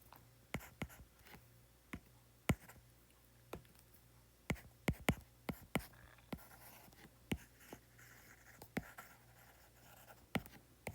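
Pen writing on paper while a rotational-motion physics problem about a disk rolling on a disk is worked out, heard as close, quiet scratches and sharp taps in an irregular rhythm with no talking.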